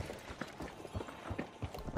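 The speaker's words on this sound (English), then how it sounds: "whether it's hooves or feet or whatever the monster has at the end of his legal appendages, they're making a lot of noise coming up through this building" Hooved monster footsteps clatter through a building in the video game The Finals, a run of hard, rhythmic clip-clop strikes at an even pace. They stay quiet and fairly distant under a low background wash.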